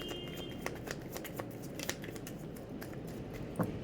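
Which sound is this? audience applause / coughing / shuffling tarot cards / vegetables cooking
shuffling tarot cards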